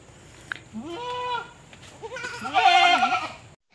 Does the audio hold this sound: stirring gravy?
no